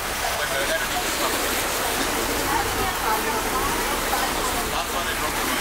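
Steady rain hissing evenly throughout, a dense wash of falling water with no pauses, fairly close and constant.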